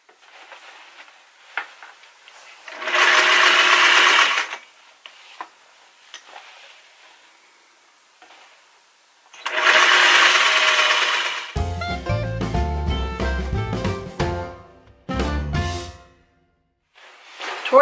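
A sewing machine running a zigzag stitch through a fabric gift filled with rice: rushing, rustling bursts first, then a loud, steady mechanical whirring and clatter of stitching that pauses briefly and starts again.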